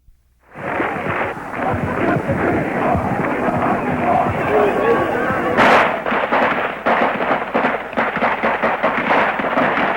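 Sustained rifle volleys as National Guard troops fire on students at Kent State, a loud continuous roar of shots after a short quiet start, with one brighter burst midway and the clatter carrying on to the end.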